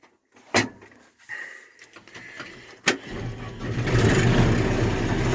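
A Cummins diesel engine on a Heston 8200 swather cranks and fires up, preceded by a couple of sharp door or latch knocks, then settles into a steady, loud idle that fills the last second and a half.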